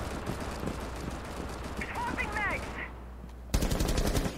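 Gunfire in Rainbow Six Siege aimed at a camera, with steady rapid shots throughout and a sudden loud burst near the end, as game sounds and chatter play alongside.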